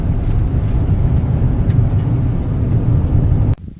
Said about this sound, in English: time to take it off pavement and get a little dirt on this.